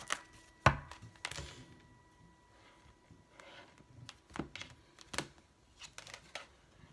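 Tarot cards being shuffled by hand during a reading, heard as irregular crisp riffling snaps and soft flutters that come close and moderately loud, with quieter rustling between the bursts and no talk.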